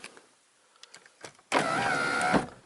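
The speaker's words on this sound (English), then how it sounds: "So this vehicle has manual locks, manual windows, but a power sliding sunroof" Power sliding sunroof on a base-model Pontiac Vibe, otherwise fitted with manual locks and windows, opening with a steady electric motor whir that starts abruptly and runs close and loud for about a second before stopping.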